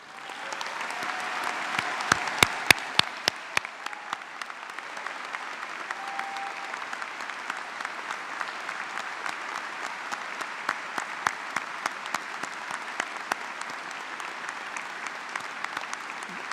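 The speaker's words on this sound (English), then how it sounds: "give these veteran graduates and their family and friends and all members of our military community another round of applause" A large audience at a university commencement claps steadily and loudly, sustained applause with a few sharp individual claps standing out, continuing without a break.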